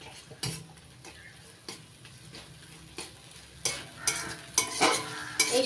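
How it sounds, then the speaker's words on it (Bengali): Ground mustard spice paste being stir-fried for a Bengali fish curry over low to medium heat, with spoon scrapes and stirring clatter against the pan over a soft sizzle, growing busier and louder toward the end. "বেটে নেওয়া মশলাটা ততক্ষণই কষাবো যতক্ষণ না সর্ষের কাঁচা গন্ধটা চলে যাচ্ছে।"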